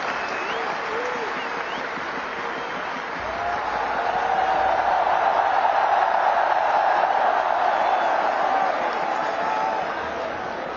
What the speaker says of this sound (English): receive a big round of applause from everyone